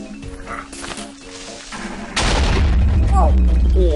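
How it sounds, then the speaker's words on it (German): A Creeper explodes in Minecraft on Xbox 360, a sudden loud boom and rumbling blast arriving midway after quieter game sounds, with a voice heard faintly during the clip. "Oh, was für ein fieser Knall."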